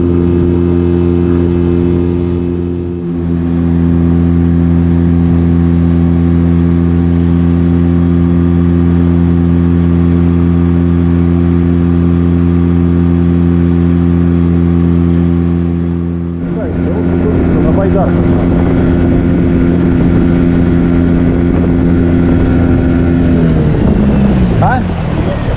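A boat's outboard motor runs steadily on the Moksha River, a loud constant drone that continues throughout, with a brief dip early on and rougher, shifting tones in the later part.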